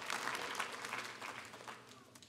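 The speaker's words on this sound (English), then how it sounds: "Go ahead, clap for him." Applause from a church congregation during a sermon, a moderate patter of many hands heard from a distance that slowly tapers off over a couple of seconds.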